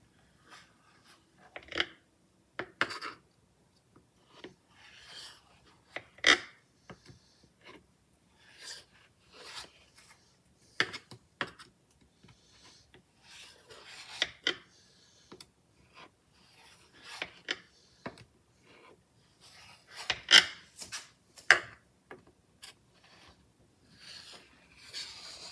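Knife pressing and slicing through set two-ingredient strawberry fudge, a run of faint, irregular close cuts and taps against a board with quiet gaps between them, alone without talk.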